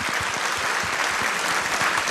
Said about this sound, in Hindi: एक बार जोरदार तालियों द्वारा उनका भी